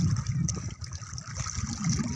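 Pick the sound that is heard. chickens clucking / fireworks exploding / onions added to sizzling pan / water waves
water waves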